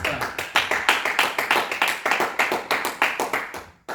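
A church congregation claps in a brisk, steady rhythm of sharp, evenly spaced hand claps, fairly close, in praise of the Lord.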